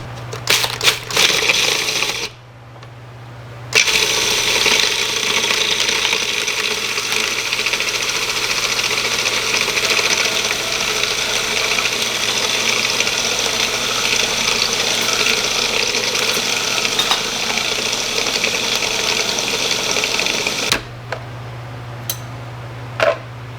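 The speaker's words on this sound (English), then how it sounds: "So I'm gonna try out this food processor and see how that goes with" A food processor grinds a frosty with ice cubes, a loud, sustained crunching whir lasting around seventeen seconds, framed by brief handling clatter and a low hum before and after.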